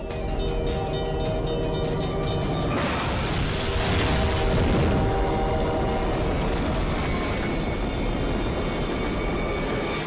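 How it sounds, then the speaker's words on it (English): An express train slams into a van at a rail crossing and the van's gas tank explodes, heard as a dense, roaring wall of rumble and crackling noise that swells in the middle and stays loud throughout. "The massive engine detonates the van's gas tank, showering the train and the crossing with flaming debris."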